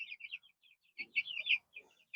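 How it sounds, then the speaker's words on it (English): Young meat chickens moved into a new brooder space give high, bright peeps in quick overlapping bursts, fairly close, with soft lower clucking sounds in the middle. "lots of happy little chirps here"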